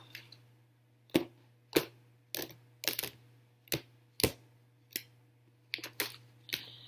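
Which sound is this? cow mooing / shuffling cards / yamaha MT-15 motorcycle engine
shuffling cards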